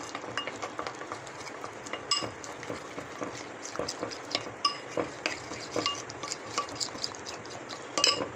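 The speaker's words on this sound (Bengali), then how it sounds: "কর্নফ্লাওয়ার তিন টেবিল চামচ দিয়ে দিচ্ছি ভালো করে একটা মিশ্রণ তৈরি করে নিচ্ছি" Cornflour mixture for bakery-style nimki being mixed in a bowl by hand, with soft scraping, stirring and light clinks repeating close up at a quiet level throughout.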